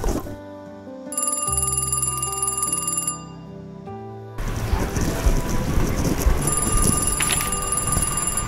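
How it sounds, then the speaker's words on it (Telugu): A telephone rings with a repeating electronic melody for roughly four seconds, loud and close, then gives way to a steady, noisy background rustle for the rest. "ఫోన్ వస్తున్నట్టున్నది కదా"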